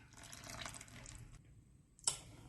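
A small amount of rinse water from a mixer jar trickles and splashes into a bowl, soft and close, running for about a second before a brief pause and a final small splash.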